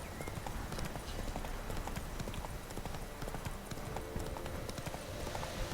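In The Witcher 3 video game, a horse gallops with rapid, continuous clip-clop hoofbeats that hold steady over a dense, busy game soundscape, with no speech.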